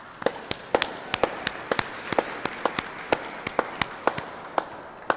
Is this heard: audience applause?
yes